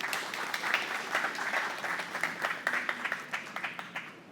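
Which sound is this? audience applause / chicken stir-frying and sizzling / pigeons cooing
audience applause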